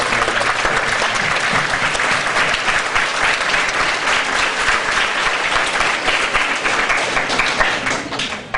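Loud, continuous applause from a school audience at a student council election, thick steady clapping with no pause, tapering slightly at the very end.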